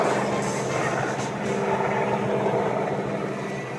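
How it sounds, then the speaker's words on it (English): An F4U Corsair fighter with a Pratt & Whitney R-2800 radial engine roars on takeoff, a steady loud droning rumble that holds throughout with no break. "here's Corsair taking off, F4U"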